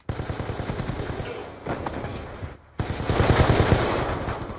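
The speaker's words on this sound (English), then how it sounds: "Can I not shoot through the freaking roof?" Rapid automatic gunfire in a first-person shooter, loud continuous bursts with a brief pause, then another sustained volley.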